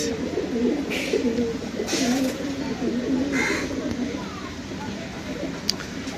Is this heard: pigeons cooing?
yes